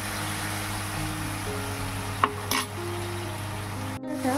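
Cauliflower cooking with salt and Kashmiri chili powder in a pan as the spiced oil separates: a steady close sizzle with occasional stirring scrapes and a brief utensil knock near the end.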